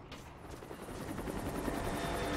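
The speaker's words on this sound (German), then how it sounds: "Schon wieder Hubschrauber." A helicopter flies in the Rise of the Tomb Raider game, its steady rotor chop and engine roar building and growing louder as it approaches, with no talk over it.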